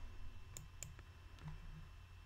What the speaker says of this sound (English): To do that, you click on this button here.